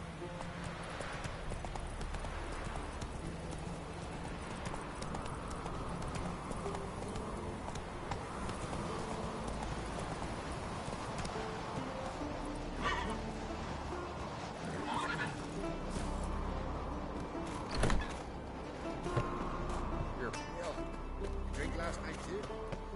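A horse galloping in The Witcher video game, with steady rhythmic hoofbeats, a whinny, and game voices talking over it.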